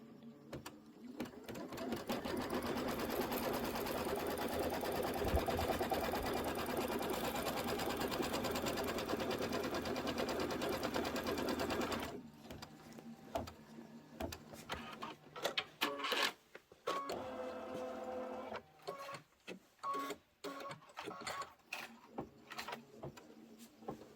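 An embroidery machine stitches a placement line for background fabric on a pillow block, running as a steady loud mechanical whir for about twelve seconds, then stopping into a series of uneven clicks and short bursts.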